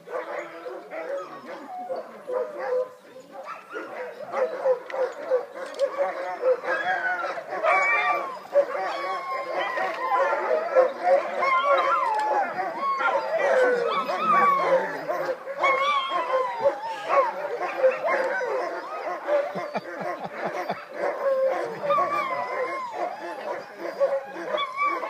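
Summer Iditarod sled dogs bark, yip and whimper in a continuous excited chorus, many animals close by, with scattered voices and laughter mixed in.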